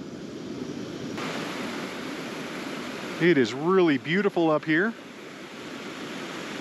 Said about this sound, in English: This waterfall reminds me of a mix between West Creek Falls and Bridal Veil Falls